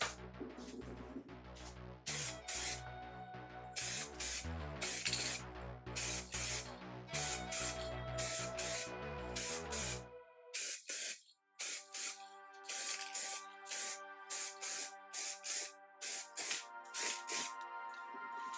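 A spray paint can hisses in repeated short bursts over a steady background hum while painting wheels, the sprays close and fairly loud with brief gaps between them.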